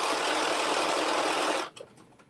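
A sewing machine runs steadily, stitching a 5/8-inch seam allowance for a McCall's 7892 pattern, loud and close with a continuous whir that stops abruptly near the end, leaving faint small clicks.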